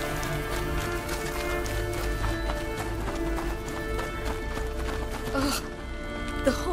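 Steady clip-clop of horse hooves at a run in the video game A Plague Tale: Innocence, continuous and fairly loud over a busy background of game music and ambience.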